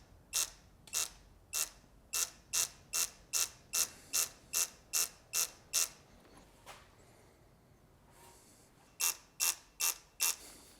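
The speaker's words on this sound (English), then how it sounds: "the digital torque wrench can follow the torque as well" A digital torque wrench ratchets while tightening bolts on a 187k-mile Ferrari-built 530hp V8 from a Maserati Quattroporte GTS: a close, steady run of about fifteen crisp clicks, a short pause, then four more clicks.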